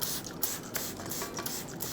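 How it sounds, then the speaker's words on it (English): A spray bottle of vodka spritzed repeatedly over a pizza topped with tomato sauce, several short hissing sprays in quick succession, close and fairly quiet. "So I'm spraying this right now."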